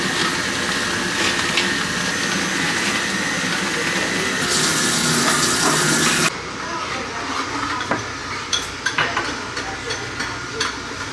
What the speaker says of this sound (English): So I am going to juice these real quick.